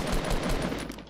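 A rapid burst of gunfire from the video game Fortnite, loud and close, rattling for about a second.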